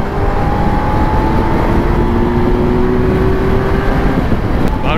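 A Kawasaki Z900 2023 motorcycle (900 cc) being ridden on a road, its engine a steady close droning rumble with faint rising whine tones, loud and continuous throughout.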